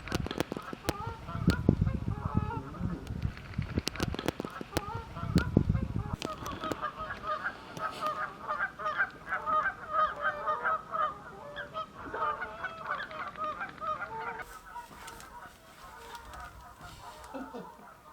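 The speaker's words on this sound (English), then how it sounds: "There's a lot of territorial activity from the Canada geese" Canada geese honk and cackle continuously at a distance on a UK nature reserve marsh, a busy chorus of territorial calls with occasional sharper knocks and rustles nearby.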